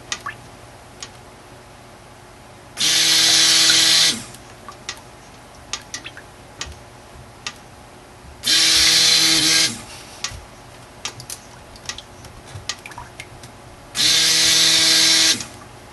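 Lye and oil for homemade swirl soap being blended by a motorized mixer, heard as three separate buzzing bursts of about a second each, spaced several seconds apart, with faint clinks and handling noise between.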